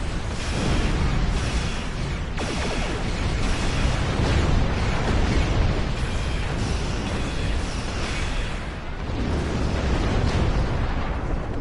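Heavy starship weapons fire from a Star Trek Online space battle, a dense, continuous barrage of booming blasts and explosive bursts that stays loud for the whole stretch with no voices over it.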